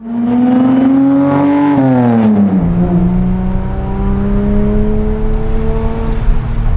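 A widebody Datsun Fairlady Z pulls away, its engine revving up loudly through one gear, dropping pitch at the shift, then droning steadily as it drives on, heard close and from inside or near the car.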